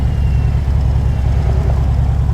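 Honda Goldwing six-cylinder motorcycle engine running steadily and smoothly, a low, even hum that holds at a constant close-up level throughout with no talk over it.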